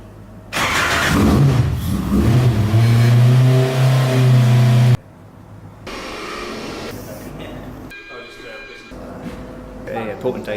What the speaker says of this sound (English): We fired the car today.